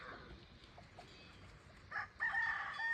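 Chickens on a rural farm around six in the morning: faint scattered clucks, then a rooster's crow rises clearly over a quiet background near the end.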